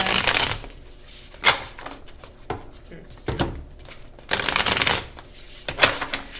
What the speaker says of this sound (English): Let's get it nice and shuffled for you.